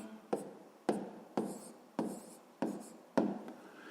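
A pen writes numbers on paper while a math exercise is worked, giving close, quiet scratchy strokes in a regular rhythm of short taps and drags.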